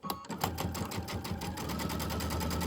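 A sewing machine stitches a quilt's scallop border, its fast, even needle chatter running close and continuous after a brief start.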